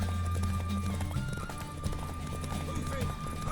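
Rhythmic hoofbeats of a galloping horse in The Witcher 3: Wild Hunt during a horse race, under continuous music and game sound effects, with voices occasionally cutting in.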